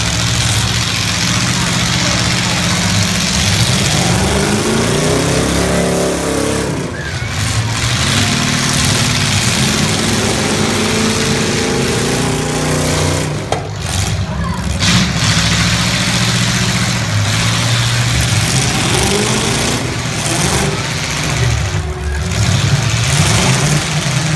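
A stock full-size old Oldsmobile demolition derby car fires up and settles into a loud, rough idle with occasional revs, running steadily throughout amid arena noise and an announcer's voice.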